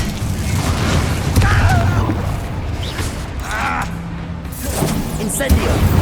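Confringo blasting spell going off in the Hogwarts Legacy video game, a loud booming burst with rumbling low end amid continuous combat noise, with voices talking over it.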